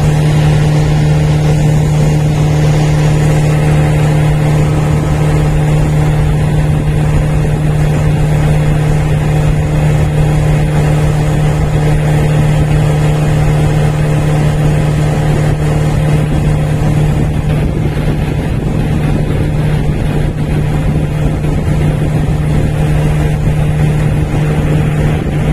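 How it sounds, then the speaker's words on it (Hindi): A Maruti Eeco's radiator cooling fan runs loudly and steadily, a constant whirring drone with a strong low hum that holds throughout without pause. "देखो फैन गाड़ी का एक बार दोबारा चल गया है"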